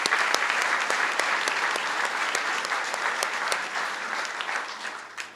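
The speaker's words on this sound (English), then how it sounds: "join me in a round of applause for the SAC representatives" Applause fills a scholar-athlete banquet hall as a crowd claps steadily for several seconds, dense and even at first, then gradually thinning and fading.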